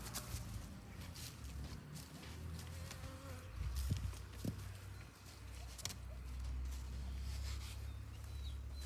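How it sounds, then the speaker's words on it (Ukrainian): A soft, steady hum of honeybees flying out of a hive on orientation flights in early spring, with a few faint knocks and rustles, no speech. "бджоли будуть облітуватись і будуть навіть нести пилок"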